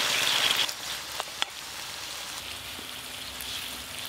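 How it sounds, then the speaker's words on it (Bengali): Chicken pieces fry in a pan, giving a soft, even sizzle with a brief brighter hiss at the start and a couple of small pops; there is no talking. "চিকেনগুলো বেশ ভালো করে ভাজা ভাজা হয়ে গেল"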